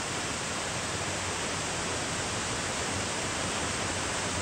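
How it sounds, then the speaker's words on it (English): A steady, broad rushing roar of falling water, constant and unbroken, heard from some distance with no other sounds. "There is the waterfall."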